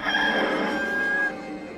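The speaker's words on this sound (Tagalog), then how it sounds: "at agad na tumilaok ang manok." A rooster crows once, close and clear, a drawn-out call that fades at the end, with no talk over it.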